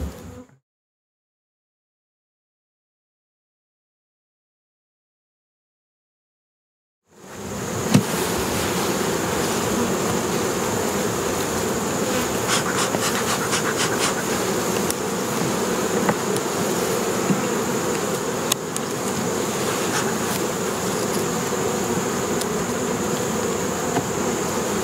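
Honeybees buzz steadily at an open hive during autumn feeding, a dense close swarm hum that starts after about seven seconds of silence and then holds unbroken, with no talking.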